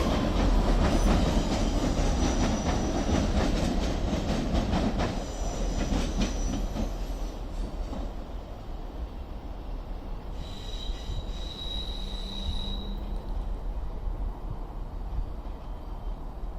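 A Northern diesel train pulls out of Stockport station on the West Coast Main Line, a loud rumbling engine and clattering wheels close by, fading slightly as it departs with faint squeals and a station tone.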